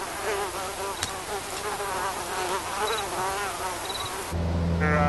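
A swarm of mosquitoes buzzes steadily over Arctic tundra near the Colville River, a dense continuous insect drone with higher whines weaving through it, close and fairly loud; a low tonal hum joins in near the end.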